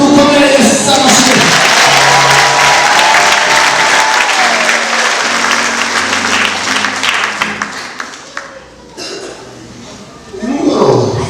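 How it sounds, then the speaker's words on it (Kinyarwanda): Loud congregation applause in a church service honoring Jesus, a dense sustained burst of clapping with some cheering that thins out and then swells again near the end. "Dukomere Yesu amashyi."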